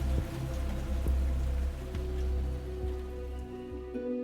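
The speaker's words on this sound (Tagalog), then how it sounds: "Malakas pa rin ang ulan ng mga sandaling iyon, Miss Ligaya." Heavy rain pours steadily onto a surface outdoors, a dense continuous hiss with occasional louder drops, close and unbroken throughout with no voices.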